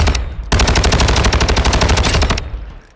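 F-Tac Ripper automatic gunfire in the Warzone video game, one loud rapid burst of about two seconds with evenly spaced shots, ending in a fading echo, no voices.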